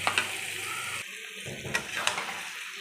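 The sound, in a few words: spice paste (masala) being sautéed in oil in a pan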